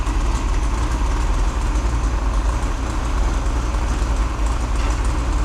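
A Pontiac 400 V8 with a ram air cam idles close by, a deep, steady, lumpy rumble that never changes across the stretch.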